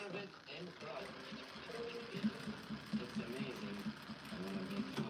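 A domestic sewing machine backstitching a hoodie being turned into a skirt set, a steady low mechanical whir with a faint rhythmic pulse, quiet and continuous, with no talk over it.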